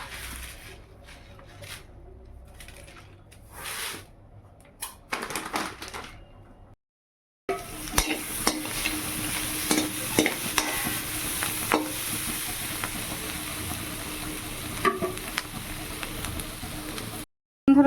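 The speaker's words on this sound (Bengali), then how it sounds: "দেখো যেগুলো ভেজে নিচ্ছি ফ্রায়েড রাইস করবো এই যে গাজর ক্যাপসিকাম বিন এগুলো ভাজা হয়ে গেছে" Carrot, capsicum and beans fry and get stirred in a pan for birthday fried rice, a steady sizzle with scraping spatula strokes after a short silent break, with quieter kitchen clatter beforehand.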